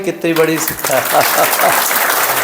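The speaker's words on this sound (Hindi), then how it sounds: "आप लोगों ने ताली नहीं बजाई" Audience clapping at a spiritual dharna class rises as someone speaking into a microphone finishes a short phrase, then carries on as a steady, fairly loud wash of applause.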